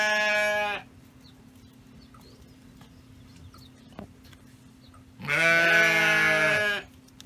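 Sheep in a farm flock bleat loudly and close, with one long wavering cry, a quiet gap of low background noise, then another drawn-out bleat.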